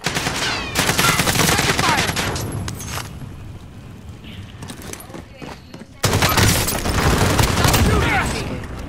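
Call of Duty gunfire crackling in loud automatic bursts up close, easing into sparser distant shots midway before another heavy burst resumes, with talk faintly present in between.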